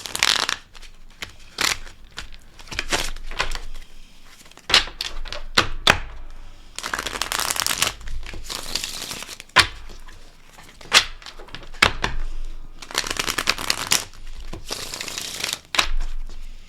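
A cute animal-themed deck of cards is shuffled repeatedly, with riffling bursts and crisp flicking snaps in irregular clusters, close and fairly loud, with pauses between, and no talking.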